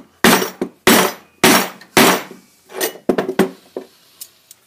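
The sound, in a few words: screwdriver or chisel smacked into power conduit end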